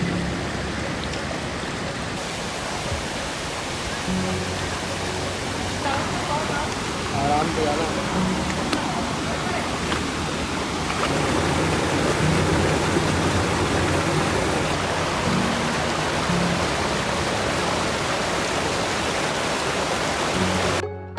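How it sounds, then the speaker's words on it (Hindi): A waterfall on a beach in Goa, a steady broadband rush of falling water that stays constant throughout, with a voice speaking over it. "क्योंकि इसी बीच पर है एक वाटरफॉल"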